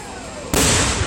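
A firework bursts suddenly during an electrical storm, a loud sharp blast after a stretch of quieter background noise, followed by a sustained roaring rumble.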